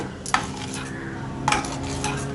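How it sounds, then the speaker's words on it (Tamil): Face gel ingredients stirred together in a bowl with a spoon or utensil, giving two sharp clinks against the bowl amid soft scraping and swishing, close and alone. "நல்லா இப்போ எல்லாத்தையும் நல்லா மிக்ஸ் பண்ணி விடுங்க."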